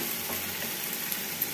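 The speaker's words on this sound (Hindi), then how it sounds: "इसको अच्छे से फ्राई करेंगे" Garlic and onion fry in a pan for parwal sabji, giving a close, steady, dense sizzle with faint crackles throughout.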